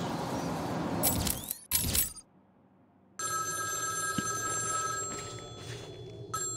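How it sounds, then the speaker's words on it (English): In-game telephone ringing in Batman Arkham City during the Cold Call side mission: two short bursts of bright ringing, a brief silence, then a sustained electronic ringing tone that carries on steadily to the end. "Ring, ring, ring. Find my phone, Batman."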